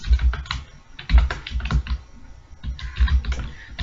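Brisk, loud keystrokes on a computer keyboard as C code is written, clicks arriving in irregular quick runs with thumping spacebar-like hits and no speech.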